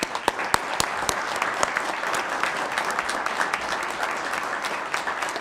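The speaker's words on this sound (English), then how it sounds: "Please give them a round of applause, please." An audience at a Coalinga city council meeting applauds the police and fire departments with steady, dense clapping and a few sharp louder claps standing out throughout.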